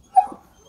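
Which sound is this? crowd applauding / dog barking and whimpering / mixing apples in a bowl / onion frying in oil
dog barking and whimpering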